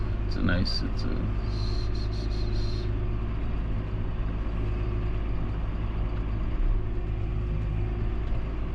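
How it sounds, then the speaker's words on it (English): A 150-horsepower six-cylinder tractor engine idling nearby, a constant low diesel rumble and drone running throughout, with brief higher chirps and clatter early on. "It's a 150 horse tractor."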